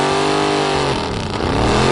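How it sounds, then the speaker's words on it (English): An old motorcycle engine starts up and runs loudly, its steady rumble and revving filling the whole two seconds with no talk. "he rolls his motorcycle out of the garage and starts it up"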